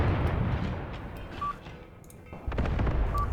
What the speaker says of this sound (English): Let's bring in mortar support for that.